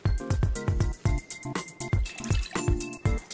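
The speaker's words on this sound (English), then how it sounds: "So we're gonna first start by adding water." Water poured into a mixing bowl for gingerbread cookie dough, a close, bubbling glug with rhythmic splashing pulses throughout.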